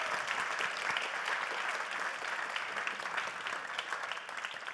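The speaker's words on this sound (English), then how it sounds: "A big applause." Audience applause at a university science contest forum, a steady wash of clapping from a fairly large crowd, moderately distant and sustained, tapering slightly toward the end.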